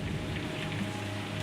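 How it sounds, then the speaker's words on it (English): Heavy rain pouring down at Cape Canaveral, a dense, steady roar of drops on surfaces with no break, loud and close throughout the short stretch. "Rain's pouring down on Cape Canaveral."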